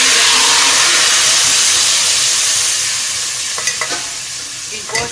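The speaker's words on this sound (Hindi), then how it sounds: "गोश्त की जो यखनी बनाई थी वो हमने इसमें ऐड कर दिया।" Meat stock, yakhni, poured into a hot pot of browned onions for Muradabadi biryani, bursting into a loud broad sizzle that gradually settles, with a few stirring scrapes near the end.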